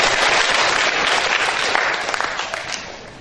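A large seminar audience bursts into loud, dense applause at a 2013 religious faith seminar in Indonesia, a thick roar of clapping that gradually thins toward the end.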